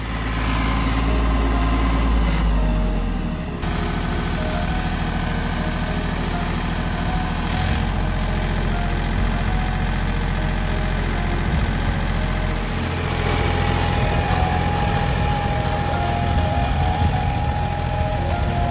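A tractor engine idles steadily and close by in a field being ploughed, a loud, continuous low rumble with a brief dip partway through.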